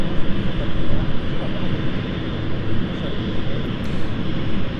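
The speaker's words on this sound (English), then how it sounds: "This is our Florence flight, Embraer 190 SR." Embraer 190 SR jet on the Florence flight at London City Airport, a loud close engine roar with dense rumbling low end, fluctuating slightly in strength over a few seconds.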